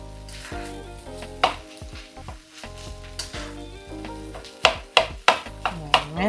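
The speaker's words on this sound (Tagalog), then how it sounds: "look what mommy's cooking. Vegetable fried rice." Vegetable fried rice with egg sizzling loudly in a pan, with steady frying hiss and a series of sharp clanks and scrapes of a utensil against the pan, several bunched near the end; no talking.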